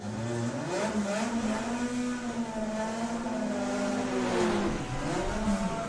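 Front-wheel drive VW drag car on a solo bye run at Santa Pod roars continuously, engine pitch climbing through gear changes and then dropping near the end, loud and unaccompanied by speech.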